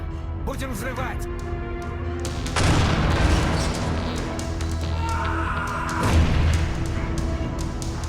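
Explosions blow open a locked door in a LEGO animation. Two deep, rumbling booms land a few seconds apart, with people talking around them.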